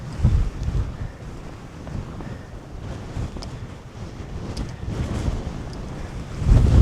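Wind sweeps across open moorland near Ogden Clough, a continuous low roar buffeting the microphone with uneven gusts that swell sharply at the end.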